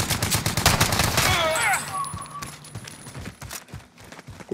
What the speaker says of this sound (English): Who shot that pistol?